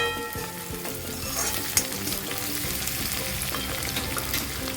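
Green chillies crackle and sizzle in hot oil in a pan, a busy, continuous fry close to the mic, with a stirring clink and one sharp pop partway through.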